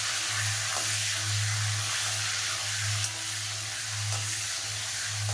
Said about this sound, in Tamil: இதே வதக்கிக்குவோம்.